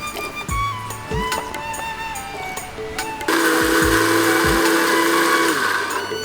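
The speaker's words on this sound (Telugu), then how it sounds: "మనం ముందుగా కట్ చేసుకున్న దోసకాయలు దీంట్లో వేసుకొని కచ్చాపెచ్చాగా గ్రైండ్ చేసుకోవాలి" Mixer grinder coarsely grinding cucumber pieces, whirring in short pulses with tonal motor whine, then running continuously and louder for several seconds, close by.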